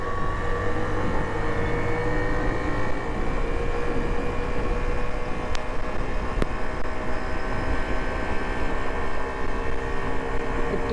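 A 2022 Hero Passion Xtec motorcycle ridden in second gear gives off a steady, dense engine drone mixed with road and wind noise, constant and close without any break.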